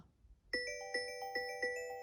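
A quiet Google Pixel 5 ringtone starts after a short silence, a bright chiming pattern of bell-like tones repeating in a steady, even rhythm.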